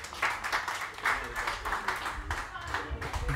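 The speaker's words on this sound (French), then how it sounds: "On veut qu'on applaudisse Jules, s'il vous plaît." An audience at a French public talk on local development and taxes applauds Jules with irregular, fairly close clapping over a few seconds, while voices carry through the clapping.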